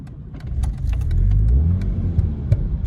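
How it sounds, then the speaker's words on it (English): A Ford RS2000 engine turns over and catches, settling into a loud, close, rough low rumble with a few clicks and knocks on top. "let's try and start the car again"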